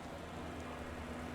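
Steady rain falling in the video game Cyberpunk, a constant broadband hiss of droplets with no breaks, fairly faint and even throughout.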